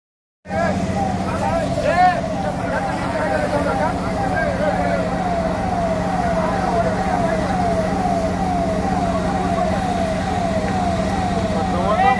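A fire engine siren wails continuously with a repeating rising-and-falling pattern over a loud engine drone, close and steady, at a bus fire in a bus depot in Kopargaon.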